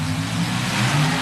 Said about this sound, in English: Hall with his small block Chevrolet-powered front engine alcohol-burning dragster